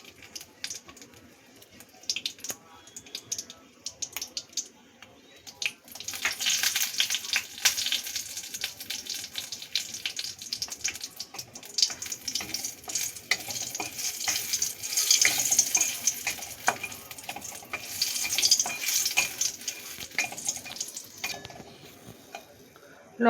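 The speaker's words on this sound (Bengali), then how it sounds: "লঙ্কাগুলো একদম কালো করে ভেজে নেব" Chillies fry in hot oil for tok dal, starting quietly with a few crackles and then rising into a steady, loud sizzling hiss with scattered pops that lasts for many seconds without talk.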